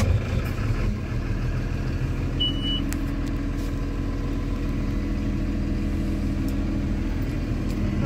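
Diesel engine of a Liebherr LTM 1030 mobile crane running steadily at idle, a continuous low rumble close by with no talk over it.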